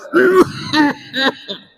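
A man coughing at a religious sermon, four short throaty coughs in quick succession, close and loud, with each one slightly weaker than the last.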